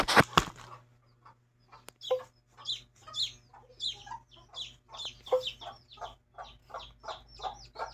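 A mother hen and her chicks cluck nearby in a quiet setting, with a steady run of short clucks and peeps repeating every fraction of a second and a low hum beneath.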